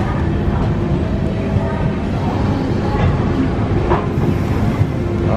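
A passenger train pulls into Agra Cantonment station with a constant close rumble and a clattering wheel noise, loud and unbroken throughout.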